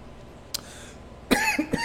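A person coughs close by: a short sharp cough, a pause, then a cluster of three rough, breathy coughs in quick succession, like the start of a coughing fit, with no talking.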